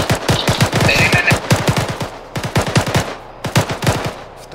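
Sustained machine gun fire, a long run of roughly 700 rounds, comes as loud, fast, evenly spaced bursts of sharp cracks with brief gaps between volleys.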